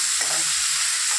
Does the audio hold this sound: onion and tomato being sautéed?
yes